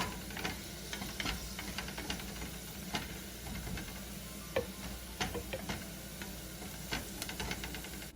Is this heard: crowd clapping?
no